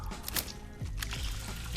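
Water poured onto plants in the video game Weedcraft Inc, a short steady liquid pour lasting under two seconds, fairly close and clear with no talk over it.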